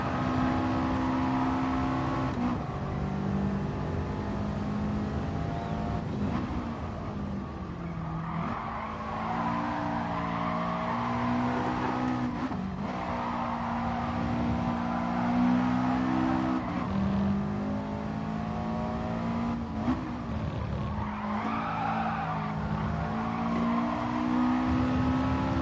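A race car at Spa in a racing video game drones steadily with a loud engine note, rising through revs and dropping sharply at repeated gear changes, with tyre squeal mixed in and no talk.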